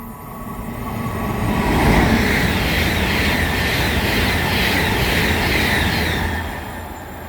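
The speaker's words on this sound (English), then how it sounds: "pass through now is going to be a Great Western Railway IET going from London Paddington to Great Malvern" A Great Western Railway IET running from London Paddington to Great Malvern passes through Pangbourne on the Great Western Main Line. The roar builds quickly to a loud, sustained rush with wheel and rail noise, then eases away near the end.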